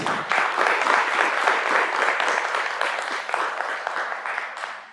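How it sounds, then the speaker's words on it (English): An audience at an annual business gathering in Africa applauding the panelists, loud dense clapping that holds steady and then slowly thins toward the end. "please can you give a round of applause to our panelists"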